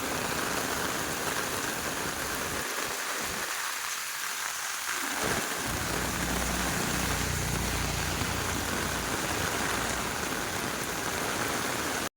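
Heavy rain pours steadily in Bengaluru in a dense, continuous hiss, briefly thinning for a moment before returning at full strength.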